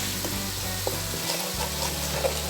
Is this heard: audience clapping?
no